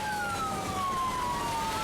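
Fire engines responding to a house fire sound a single wailing siren that sweeps slowly in pitch, moderately distant over a steady background roar.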